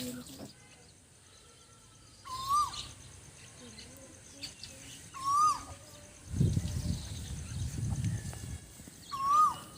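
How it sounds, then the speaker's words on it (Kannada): A koel calls from a tree behind a house, giving several rising, whistled notes spaced a few seconds apart. The calls are moderately close and clear over quiet outdoor ambience, with a brief low rumble midway. "ಕೋಗಿಲೆ ಎಷ್ಟು ಇಂಪಾಗಿ ಕೂಗ್ತಾ ಇದೆ ನೋಡಿ."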